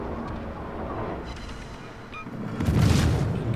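Naval cruiser guns fire in World of Warships, featuring the German Tier-8 premium cruiser Mainz: a steady low rumble of battle noise, then a heavy booming blast swells near the end and holds loud.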